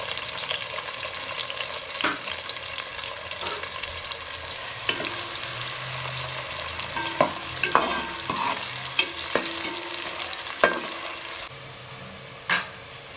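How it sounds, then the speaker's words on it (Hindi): A medium onion frying in a cup of hot oil sizzles with a steady hiss, broken by several sharp clinks and scrapes of stirring, with no talking. "मैंने 1 कप ऑयल लिया है, इसे गर्म कर लिया है। अब इसमें एक मीडियम साइज का प्याज ऐड करूंगी।"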